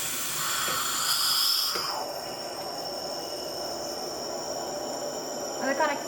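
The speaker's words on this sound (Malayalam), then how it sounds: "അതിൻ്റെ മുകളിൽ കൂടെ നന്നായിട്ട് സ്റ്റീം വരും." Steam hisses from a pressure cooker vent while Kerala rava puttu cooks, a loud rushing hiss that drops to a steady softer jet, followed by a brief rattling burst near the end.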